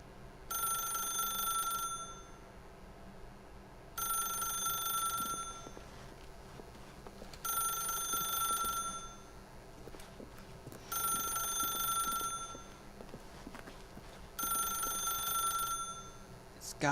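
A telephone rings in The Stanley Parable video game, four regular bursts of a bright electronic ring about two seconds each, separated by short pauses, steady and clear over a quiet ambient hum.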